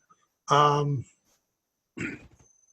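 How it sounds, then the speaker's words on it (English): A single throaty cough burst, followed about a second later by a shorter, rougher cough, close and fairly loud. "still coughing a little bit from the cold"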